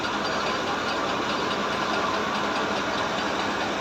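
A Romanian-made Farmer 533 tractor engine runs a water pump in a field after heavy rain, holding a steady loud knocking drone with no talk over it.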